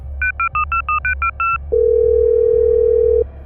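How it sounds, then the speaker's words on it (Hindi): Phone call being placed: a rapid run of short dual-tone keypad beeps, then one long steady dial tone held for about a second and a half, clear and close over a low background hum. "मैंने अपने दोस्त विकास को फ़ोन किया"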